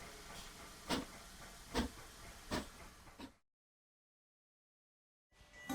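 A steam train hisses steadily, with several periodic louder puffs or clanks about a second apart, then a stretch of total silence before the hiss returns.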